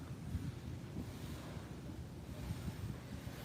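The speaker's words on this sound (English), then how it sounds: "Look at this ocean right here." Ocean surf rolls in at Mo Vung pineapple beach, a steady low roar of breaking waves mixed with gusty wind buffeting the microphone, continuous throughout with no one talking.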